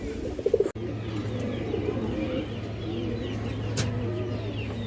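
A pair of black Mushaldam pigeons with white tails coo in a low, steady run, with other birds chirping softly around them and a loud click near the start.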